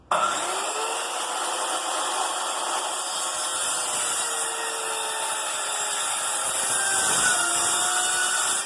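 A power saw blade rips through wood while notching stock for floating shelves. A steady, loud whine with a rough grinding edge runs unbroken from start to finish, with no voices.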